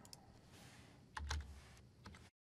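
A short, quiet burst of computer keyboard typing as a date is entered into desktop software, a handful of soft key clicks with one slightly louder cluster near the middle.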